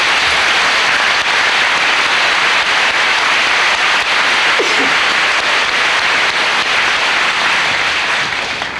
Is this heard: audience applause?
yes